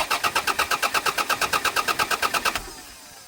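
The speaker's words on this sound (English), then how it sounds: "we're gonna crank it over and see what happens" A car engine with a broken fuel pump cranks over with a steady, rapid rhythmic churning for about two and a half seconds, then stops without catching, leaving faint hiss.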